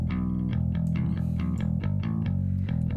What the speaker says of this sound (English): So this bass doesn't have any compression on it.